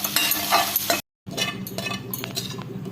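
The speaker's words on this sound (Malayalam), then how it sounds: "അപ്പം നന്നായിട്ട് മിക്സ് ചെയ്ത് കൊടുക്കാം" Corn and melted cheese slices being stirred in a hot pan, with a spoon scraping and clinking against the metal over a soft sizzle. The sound breaks off briefly, then resumes.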